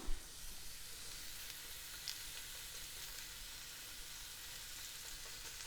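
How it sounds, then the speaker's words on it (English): Steady, soft crackling sizzle of onions frying in a hot pan, a continuous hiss with faint pops and no voices. "There we go, we got the sizzle happening."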